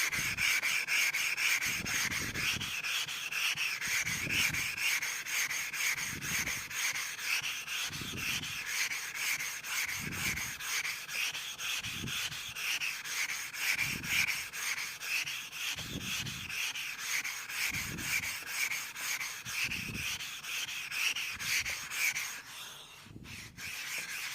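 A blade is honed on whetstones with a steady back-and-forth rhythm of gritty rubbing strokes, about a dozen evenly spaced passes, close and clear with no talking, easing slightly near the end.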